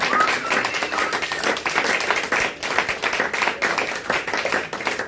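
A church congregation applauding and cheering for Jesus during a worship service, a dense, steady wash of clapping with mixed voices that continues loudly throughout.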